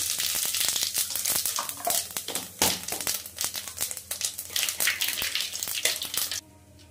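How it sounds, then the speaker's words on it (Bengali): Dried red chili, bay leaf and cumin seeds crackle and sizzle as they hit hot oil, giving a loud, dense frying hiss full of sharp pops, which cuts off abruptly near the end to a quiet background. "তেলে শুকনো লঙ্কা, তেজপাতা আর সাদা জিরে ফোড়ন।"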